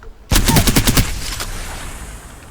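Rapid burst of automatic gunfire from an unmodified EMG rifle in the video game Apex Legends, about a dozen sharp, loud shots in quick rhythm followed by a fading echo tail.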